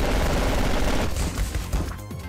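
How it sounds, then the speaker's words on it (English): A chain gun fires in the game Megabyte Punch, a loud, rapid stream of shots in a dense continuous burst that thins out and trails off near the end. "Chain gun spam!"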